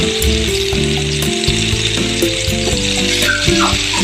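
Fish fries in hot oil with a loud, steady, dense sizzle that continues without a break, close up, with no talking.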